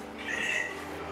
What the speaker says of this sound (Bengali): অলরেডি কিন্তু পাখির ডাক আমরা পাচ্ছি